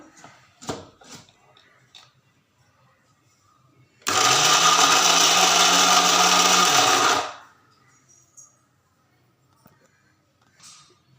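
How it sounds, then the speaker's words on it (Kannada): An electric mixer grinder blends a spice masala with coriander leaves and a little water for an aubergine sambar, giving one loud, steady whirring burst of about three seconds between quiet stretches. "ಮಿಕ್ಸಿ ಮಾಡ್ಕೊಳ್ಳೋಣ"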